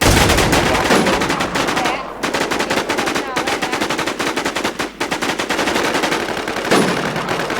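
Rapid automatic gunfire from a video game rattles in dense, continuous bursts, loud and close, with a couple of brief pauses between volleys.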